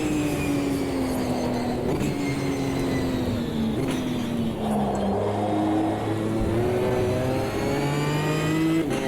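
Race car engine from Automobilista 2 at Snetterton, a steady loud drone rising and falling through gear changes and throttle lifts, the engine alone without talk for the whole stretch.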